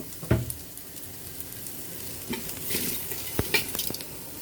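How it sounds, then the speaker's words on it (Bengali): Washed rice sizzles with fried onions in a hot pan for fried rice as a spoon scrapes and stirs it, with occasional sharp clinks against the metal. "এখন আমরা ধুয়ে রাখা চালগুলো দিয়ে দিব।"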